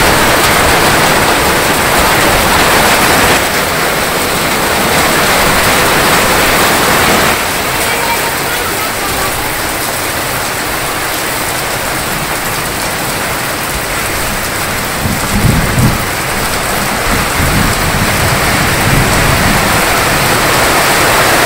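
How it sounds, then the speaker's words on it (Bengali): Heavy rain in a Bangladeshi village during the rainy season pours down in a loud, steady hiss that fills the whole stretch without letup. "বৃষ্টি নেমে গেছে, দক্ষিণ দিক থেকে খুব দাইয়া আসতেছে বৃষ্টি"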